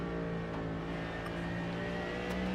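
A Mercedes GT3 race car engine drones steadily at high revs in the iRacing sim at Spa-Francorchamps, a continuous harmonic whine with slight pitch shifts and no talking.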